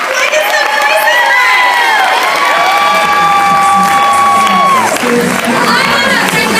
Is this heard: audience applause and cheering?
yes